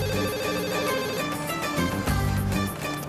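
A telephone ringing in a scene from a Thai drama series, a steady electronic ringtone under background music that goes on without pause.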